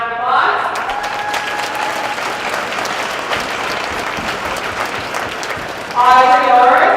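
A crowd applauds a committee member being introduced at a memorial game event, giving sustained, even clapping. A voice speaks over it at the start and again at the end.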